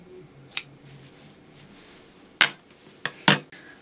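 Sewing thread snipped with scissors, a few sharp, close metallic clicks spaced apart, one early and a quick cluster of three near the end, in an otherwise quiet room without talking.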